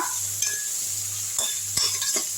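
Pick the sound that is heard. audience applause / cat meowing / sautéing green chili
sautéing green chili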